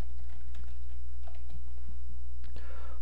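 Typing on a computer keyboard produces a quick run of light, close key clicks in an irregular rhythm, with a slightly heavier tap near the end, over a steady low hum.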